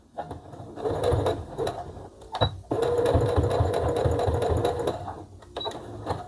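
A domestic sewing machine stitches a seam on a child's jumpsuit in fast, close-up bursts, with a short pause partway through before a longer steady run, then a brief final burst.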